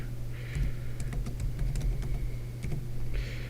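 Fingers tap quickly on a computer keyboard, a steady run of close, light key clicks over a low background hum, with no talking.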